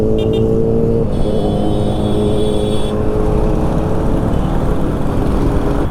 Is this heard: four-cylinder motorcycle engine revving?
yes